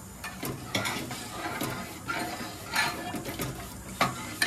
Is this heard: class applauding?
no